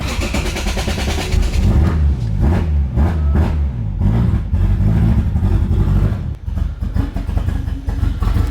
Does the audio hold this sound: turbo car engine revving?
yes